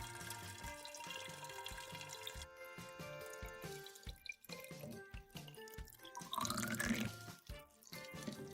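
Kombucha pours from a tap into a bottle, a gurgling trickle of liquid that rises in pitch as the bottle fills, with clinking and handling noises and no voices.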